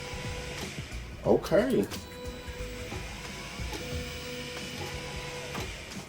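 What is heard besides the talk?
Ortur Laser Master 2 stepper motor moving laser head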